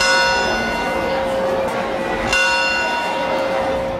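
A bell rings out at noon to mark lunchtime, a sustained ringing tone with rich overtones that holds steady and carries on over background murmur, with a fresh strike around the middle.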